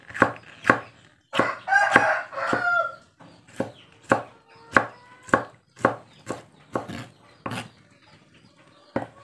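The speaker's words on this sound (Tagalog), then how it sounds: "So medyo tagal na lang po tayo maghayat dahil hindi po tayo chef." A knife chops moringa (malunggay) leaves for chicken feed in a province yard, making a dozen crisp, evenly spaced thuds on a board, while a rooster crows loudly nearby partway through.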